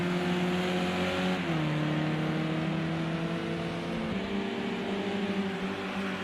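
Onboard race car engine at Donington during a VTCC touring car race, a loud steady drone with harmonic bands that dip and recover as the car struggles, with a gear-change-like drop near the middle and another later.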